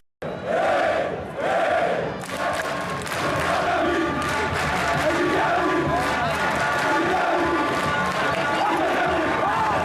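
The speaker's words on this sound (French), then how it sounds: "Une foule immense, des chants et des cris de joie pour une ambiance incandescente" An immense football stadium crowd in Congo sings and cheers in loud, continuous waves of chanting and roaring, steady and dense throughout.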